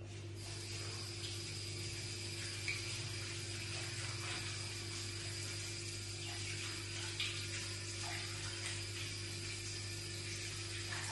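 Tap water runs steadily while a kitchen spot is washed before dough is laid out, a continuous even rushing with a low hum underneath and no talking.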